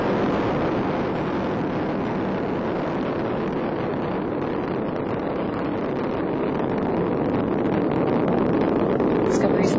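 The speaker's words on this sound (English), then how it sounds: "Liquid fueled main engines are now throttling down to reduce stress on the shuttle" Space Shuttle Discovery's liquid-fueled main engines thunder through the STS-131 launch, a dense, continuous roar heard from afar with no break over the full duration, the steady blast dominating everything.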